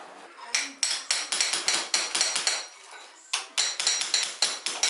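Repeated metal hammer blows ring out during an upstairs bedroom renovation, sharp close strikes in quick uneven bursts with a brief pause midway before a second run of rapid hits.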